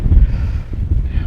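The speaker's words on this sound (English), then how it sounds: "we came out of the woods and the wind's picked up" Wind blowing hard against the microphone, a loud, low buffeting rumble that gusts unevenly throughout.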